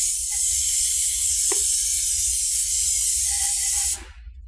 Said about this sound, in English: Now you can spray the outside.